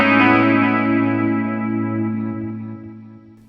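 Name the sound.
stereo delay effect on Zoom MultiStomp MS-70CDR pedal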